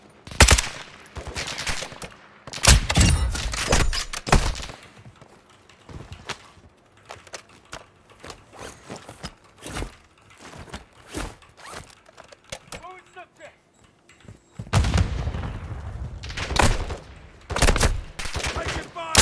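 Video game gunfire in a match: scattered bursts and single shots, some loud and close, others farther off, with quiet gaps between volleys and a heavy exchange toward the end, with voices calling out now and then.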